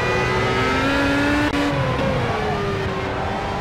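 A race car engine in Project CARS at the Nürburgring drones loud and steady, its pitch dipping briefly then climbing again as it powers through a curve.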